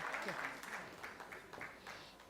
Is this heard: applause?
yes